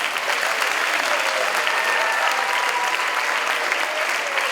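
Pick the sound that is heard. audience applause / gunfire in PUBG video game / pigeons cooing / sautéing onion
audience applause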